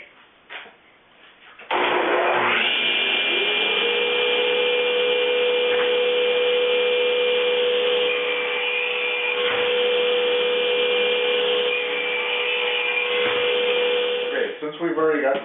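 Saw cutting pine boards for shelves against a fence stop: the motor spins up with a rising whine, then holds a loud, steady high hum with slight dips as the blade works through the wood, winding down near the end.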